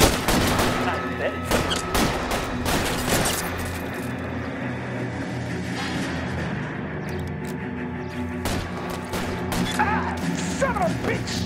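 A shootout in the video game LA Noire crackles with scattered gunshots and crashing impacts over a steady background din, with shots clustered at the start and end and voices occasionally heard.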